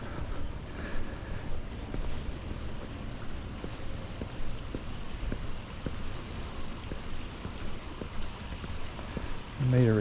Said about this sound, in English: It's very relaxing just to stand here and listen to the creek.